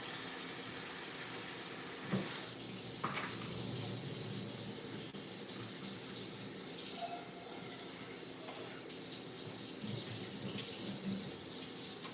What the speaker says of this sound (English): go ahead and pour these noodles